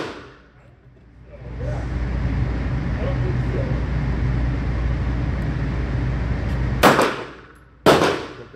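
.45 ACP pistol, a CZ97-style semi-compact, firing two sharp, loud shots about a second apart near the end, the first in double action, over a steady broad background rumble.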